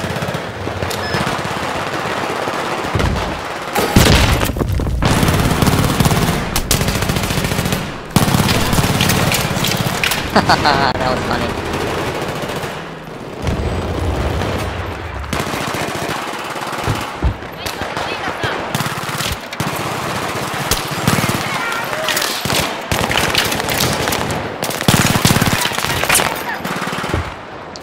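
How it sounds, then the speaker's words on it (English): Rapid automatic gunfire in Battlefield 3 team deathmatch on Kharg Island, loud bursts and sustained rattling volleys with sharp cracks, players talking over it. "there's way too much shooting going on"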